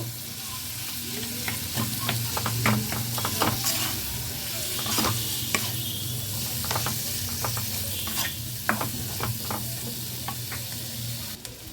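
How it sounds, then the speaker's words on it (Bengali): Boiled potato mixed with spices in a hot pan, heard as a steady close sizzle broken by repeated scraping and tapping spatula strokes, with no one speaking. "এখন এই সব উপকরণগুলোকে আমি খুব ভালো করে মিশিয়ে নেব"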